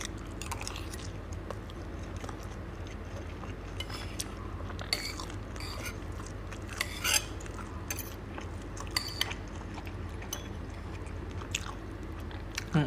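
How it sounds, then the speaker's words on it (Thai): Rice with stir-fried basil shrimp is chewed slowly and steadily, with soft wet mouth sounds and occasional small clicks, close up and quiet over a constant low hum, without speech. "เคี้ยวข้าวเนี่ย เราต้องจริงๆมันจะมีกำหนดการเคี้ยวนะครับ"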